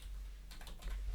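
Computer keyboard typing during a Magic: The Gathering deck session, a short run of quick, light key clicks that is faint and close, with a steady low hum underneath.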